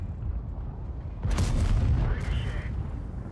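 A heavy tank cannon fires in World of Tanks, likely an M103, giving one loud booming blast that rolls off into a lingering rumble with a faint whine trailing behind.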